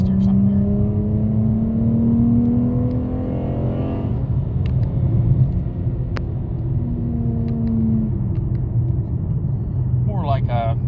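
Dodge Challenger fitted with a BBK throttle body accelerating hard, a steady rising engine drone with climbing harmonics, a brief dip around a shift, then pulling again; loud and close throughout, heard from inside the car.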